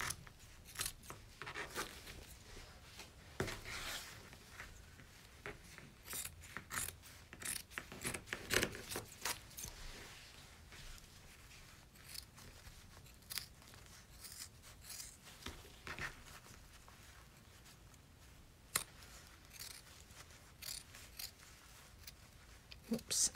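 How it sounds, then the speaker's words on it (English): Scissors trim fabric around an in-the-hoop appliqué bag, giving repeated soft snips and rustling cuts close by at a low level. The cutting runs steadily throughout, and a voice talks quietly underneath. "we're gonna cut it at an angle in there, cut it at an angle in there, and we're gonna just trim around the rest of the bag"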